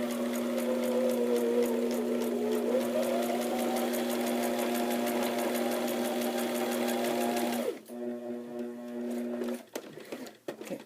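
A sewing machine stitches a seam and backstitches, a close, steady rapid whirring hum that stops abruptly near the end, followed by a few softer mechanical clicks.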